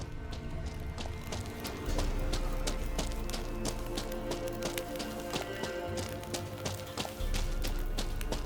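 Horse hooves gallop in The Witcher 3 in a steady rhythmic clip-clop, close and fairly loud, with game music and ambience underneath.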